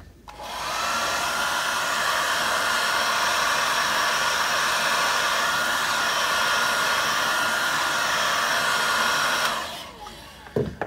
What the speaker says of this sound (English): I'm just going to give it a quick blast with the hairdryer.